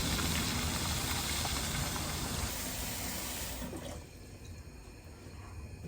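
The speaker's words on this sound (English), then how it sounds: "So I just got finished filling my pot for my basmati rice." Tap water runs into a cooking pot being filled for basmati rice, a loud splashing stream that abruptly stops near the end, leaving only faint drips and room hiss.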